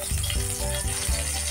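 Fish fries in a pan with a continuous close, loud sizzle and crackle, broken by a few short rhythmic pulses, with no voices.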